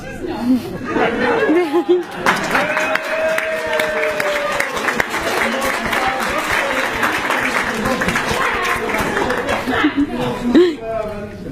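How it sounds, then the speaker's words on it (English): Wedding guests break into sustained applause mixed with chatter and scattered laughter, a dense crowd clapping steadily for several seconds before tapering off, with voices audible around it. "I'd like to put a warm round of applause for Zoe"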